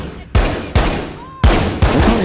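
Four loud, close gunshots fired at irregular intervals in The Walking Dead: Saints & Sinners, each a sharp booming crack with a short decaying tail.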